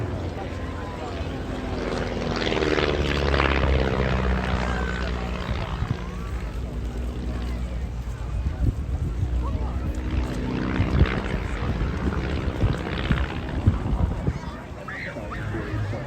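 A propeller aerobatic display aircraft barrel-rolls at the Eastbourne airshow, a continuous droning engine with slowly shifting pitch heard from a distance beneath steady crowd and wind noise.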